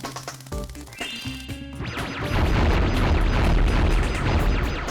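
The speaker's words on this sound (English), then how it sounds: "that's explosion sounds of starfishes" In Spyro 3: Year of the Dragon on PS1, a heavy, rumbling explosion bursts in after a short run of electronic game tones, then a loud sustained roar and crackle of debris fills the rest.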